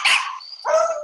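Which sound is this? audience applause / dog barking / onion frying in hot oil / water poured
dog barking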